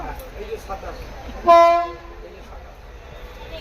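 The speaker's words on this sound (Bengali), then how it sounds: "আর এই দেখো দুরন্ত এক্সপ্রেসে যাচ্ছি" A Duronto Express passenger train is heard from inside a coach: a steady running rumble is cut by one short, loud horn blast midway, with voices talking faintly in the carriage.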